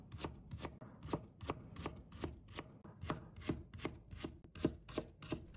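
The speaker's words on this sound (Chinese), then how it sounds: "先把它切成薄薄的厚片， 我们再给它切成细丝。" A knife slices potato into thin shreds on a cutting board, producing crisp, evenly spaced chopping taps in a quick steady rhythm, close and distinct.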